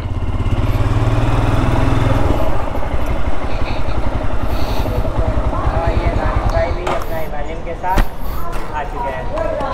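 Royal Enfield Himalayan motorcycle engine on an early-morning group bike ride, a steady loud rumble with a low rhythmic throb and road and wind noise throughout, with a few sharp knocks near the end.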